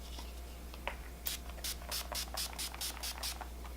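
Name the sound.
spraying Urban Decay Chill makeup setting spray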